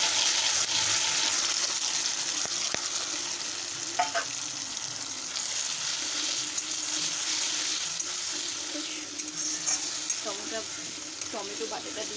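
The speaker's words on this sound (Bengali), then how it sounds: "এবার দেবো টমেটো বাটাটা।" Tomato paste frying with onions in a pan, a continuous close sizzle with occasional stirring scrapes and small pops, and a voice faintly under it at times.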